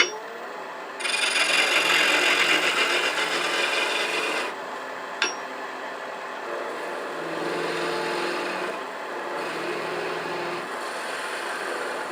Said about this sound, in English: I'm going to go ahead and remove this scrap with the skew, make a little bit of a point.